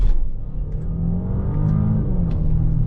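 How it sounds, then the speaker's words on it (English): A 3-liter V6 engine in an Audi Q8 plug-in hybrid SUV accelerating, a steady rising engine drone heard from inside the cabin, close and moderately loud, with no talking. "it makes a very, very nice noise when you're trying to accelerate"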